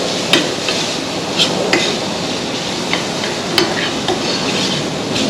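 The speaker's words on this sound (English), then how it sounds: "We'll saute that with the bacon" Onions sizzle with bacon in a hot pan, a steady loud frying hiss broken by a few faint clicks and taps of a utensil.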